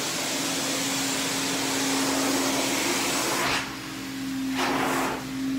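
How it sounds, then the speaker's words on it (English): A carpet-cleaning claw extractor sucks moisture up from the subfloor with a loud, steady vacuum roar and whine, dipping briefly twice as the suction shifts. "With the claw, sucking the moisture right down from the subfloor up and out."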